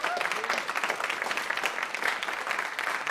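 An audience bursts into dense, sustained applause after a rapper's keynote speech at a hip-hop conference, with clapping filling the whole stretch and some voices faintly mixed in.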